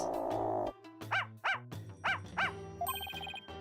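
A dog in the Apollo Justice video game barks in a run of four or five short, evenly spaced yips, followed by a bright chiming game jingle.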